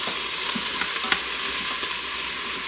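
Onions browning in hot oil inside an Instant Pot for black bean soup, a steady close sizzle and crackle with a few faint stirring clicks, no talk.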